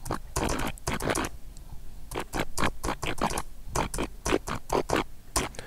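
Someone types text live on a USB computer keyboard, with rapid clusters of crisp, close key clicks separated by short pauses.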